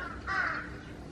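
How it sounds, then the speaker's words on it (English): A single harsh caw from a crow in bushes in autumn countryside near Seoul, a short, fairly close call over a quiet background with no talking. "There's about a million crows in this area surrounded by bushes"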